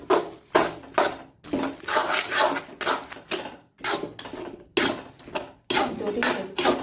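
Fried banana pieces being stirred into thick jaggery syrup in a pan, giving repeated scraping and clattering strokes in an uneven rhythm, close and fairly loud, with no voices.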